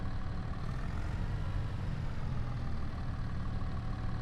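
A tractor engine idles in Farming Simulator 22 as a steady, low, continuous rumble with even loudness throughout and no talking.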